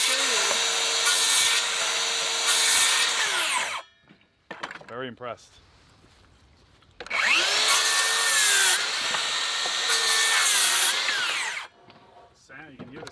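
DeWalt cordless circular saw cutting wood: two loud, sustained whining cuts, each a few seconds long, separated by a quieter stretch with brief talk and clatter, and a short wind-down at the end.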